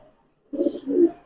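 Pigeons in a loft give a short burst of soft, low cooing that begins after a quiet pause, close by and without talk.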